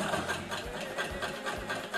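Necchi BF Nova sewing machine stitching through three layers of upholstery vinyl, a steady close motor whir with a regular rapid needle thump running throughout, no voices.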